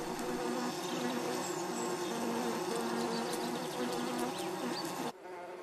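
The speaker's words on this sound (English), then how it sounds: "The honeybee." Honeybee buzzing close and steady with a clear harmonic drone, alone without talk, cutting off abruptly near the end.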